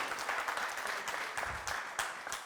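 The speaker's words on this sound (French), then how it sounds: "On applaudit pour BF1, s'il vous plaît." Studio audience at a Burkina Faso TV variety show applauding a sponsor, a dense, steady patter of clapping with a few sharper bursts, moderately close and fairly quiet throughout.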